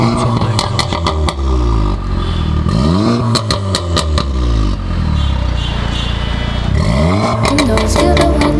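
Car exhaust on a beach outing rapidly revving, with loud rising and falling engine sweeps repeated several times over close, rattling clatter, heard near and without talk.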